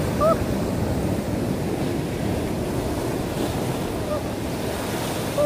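Ocean surf roars steadily against the shore at Hampton Beach, mixed with heavy wind buffeting the microphone; faint bird cries appear briefly.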